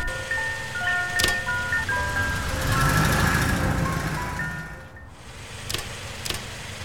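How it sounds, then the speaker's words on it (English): Ice cream truck chime playing a tinkling melody over a running vehicle engine in a street, with a few sharp clicks and a brief quieter gap near the end. "Ice cream truck. Ice cream truck."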